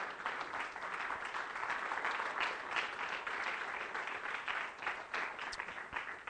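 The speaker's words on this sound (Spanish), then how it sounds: "¿Puedes darle un aplauso al Señor?" Congregation applauding during a church sermon, a dense, continuous wash of clapping heard from a distance and fairly faint, with no talk over it.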